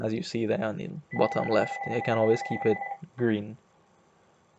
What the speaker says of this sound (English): Apologies for that phone ringing.